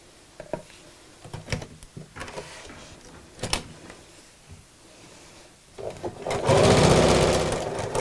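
Domestic sewing machine stitching a length of fabric in a workroom, heard as a brief loud run of fast mechanical whirring near the end, after scattered quiet handling knocks and clicks.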